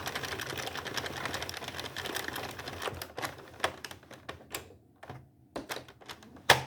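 A tricotin knitting loom being cranked slowly for the first row while making a small bolero gives a dense clatter of mechanical clicks that thins into sparse, separate clacks, close and fairly quiet.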